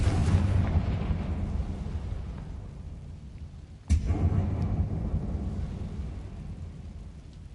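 A Confringo fire spell explodes in Hogwarts Legacy on PS5, a sudden sharp blast partway through followed by a deep rumbling roar, over a dense low background rumble.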